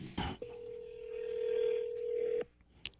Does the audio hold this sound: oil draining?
no